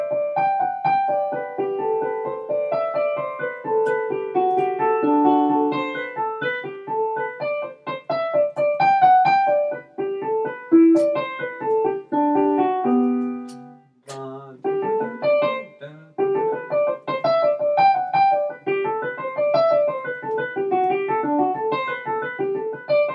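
Bach's Baroque piece Jesu, Joy of Man's Desiring played on a keyboard, a clear, close melodic line with flowing triplet figures, a brief pause in the middle, then continuing without talk.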